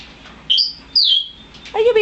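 A pet bird chirps indoors, giving a few short, sharp, high tweets in quick succession, loud and close, with a brief warbling call at the end.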